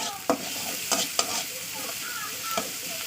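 Egg frying in a pan during a home cooking session, a steady sizzle and crackle with a few sharper pops and stirring taps, close and moderately loud, no talking.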